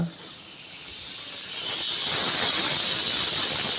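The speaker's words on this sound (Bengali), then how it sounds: "প্রেশার কুকারে হুইসেল শুরু হয়েছে" A pressure cooker whistle on a kitchen stove lets out a steady, loud steam hiss that swells over a few seconds and then holds continuously, with no talking.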